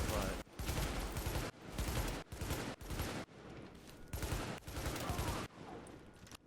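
SA-58 rifle in The Division firing in repeated short bursts, seven or eight loud clusters of rapid shots separated by brief gaps, close and sharp.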